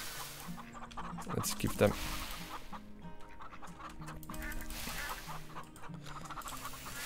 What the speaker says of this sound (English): The chickens are nice,